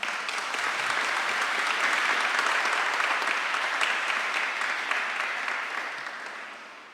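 A church congregation applauds the men's choir at a Sunday afternoon Mass, a dense, sustained wash of clapping that holds steady for several seconds and then gradually thins out.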